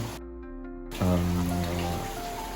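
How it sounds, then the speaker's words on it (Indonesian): Steady rain falls during the rainy season over a koi-keeping setup, a broad hiss carrying sustained low tonal hums, with a short muffled gap near the start before the downpour noise returns fuller. "masih tetap hujan"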